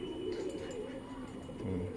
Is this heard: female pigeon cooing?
yes